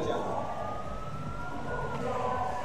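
A wailing siren from a police car or ambulance responding to a staged murder-scene exercise, rising and falling steadily over road noise, moderately near and continuous.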